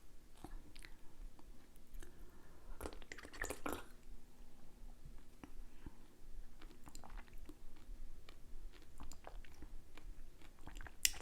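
Close, wet chewing of crunchy, chewy fruit such as grape- and pomegranate-like pieces, with squishy bites and a louder crunch burst early on, intimate and steady throughout.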